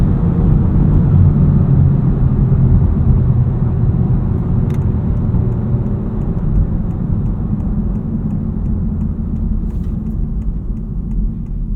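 A 2023 FL5 Honda Civic Type R fitted with a Cobb Redline carbon fiber intake accelerates hard in second gear, heard from inside as a loud, dense, continuous engine roar and rumble with no speech.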